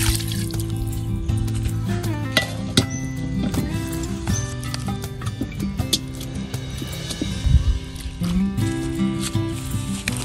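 Water poured into a cooking pot before boiling chicharong bulaklak: a steady, splashy stream with scattered clinks and drips, close and fairly loud throughout with no talk over it.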